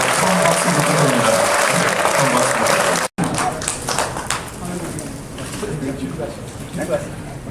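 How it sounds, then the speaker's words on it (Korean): Loud audience applause at a ceremony marking the nation's 65th founding anniversary, a dense burst that briefly cuts out, then continues more thinly with scattered claps and crowd murmur. "처음 박수 부탁드립니다."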